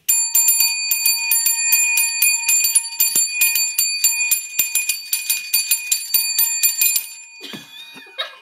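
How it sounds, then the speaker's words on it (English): A bright metallic bell rings rapidly and repeatedly for several seconds, then stops, followed by a brief faint rustle. "You're going to start off with a bell."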